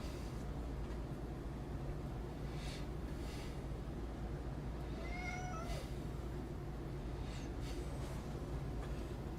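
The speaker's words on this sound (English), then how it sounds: "Are you the biggest cat in the world?" A large house cat meows a few times in a workshop during a live electronics build, the short rising cries sitting fairly faint over a steady, loud background hum.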